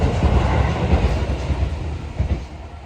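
A train rumbles steadily past, loud and close, with a dense low roar and faint rhythmic clatter of wheels, heard from a garden where a guava is being potted in a plastic bucket.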